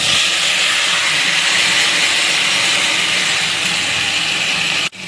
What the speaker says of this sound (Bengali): মাংসটা কড়াইতে দিয়ে দিলাম।